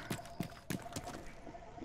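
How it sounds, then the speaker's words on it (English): Brief, quiet footsteps in the Rainbow Six Siege shooter, a handful of soft irregular thuds with faint background hum. "Tanner footsteps."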